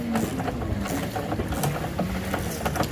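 Personal watercraft motor nearby on the water near Body Beach, a steady droning engine hum with a wavering pitch that holds throughout, close and fairly loud with no break.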